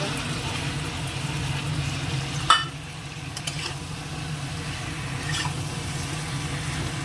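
A spice paste of garlic and ginger sizzles steadily in hot oil, with one sharp splash and clatter midway as tomato paste is added to the pan.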